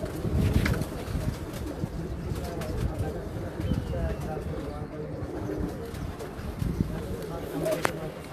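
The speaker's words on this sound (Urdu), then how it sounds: "ماشاء اللہ یہ اچھے کبوتر" Soft pigeon coos repeat low and steady in the background while people talk nearby.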